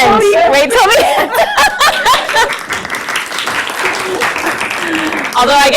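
An audience claps to welcome a speaker onto the stage, a dense, loud burst of applause mixed with light chuckles and laughter that carries on for several seconds.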